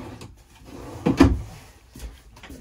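A drawer in the kitchen of a 2021 Keystone Outback 210URS bunkhouse camper is pulled open or pushed shut, giving one short wooden thump near the middle, close and moderately loud in a quiet room.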